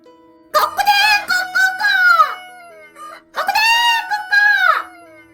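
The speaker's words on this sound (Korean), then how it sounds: "닭 울음소리에 도로시는 눈을 떴습니다." A rooster crows twice, loud and close, each long cock-a-doodle-doo rising and then trailing off, with a brief pause between; used as a sound effect in a Korean fairy-tale audiobook.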